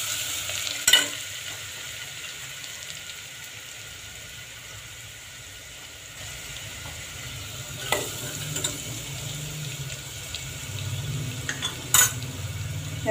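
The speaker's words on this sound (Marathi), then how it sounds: "लसणाच्या पेस्टला थोडंसं ब्राऊन होऊन द्यायचं" Garlic paste for misal fries in a pan until lightly browned, giving a continuous sizzle. A spoon scrapes and clinks against the metal now and then, with a few sharper knocks near the start and end.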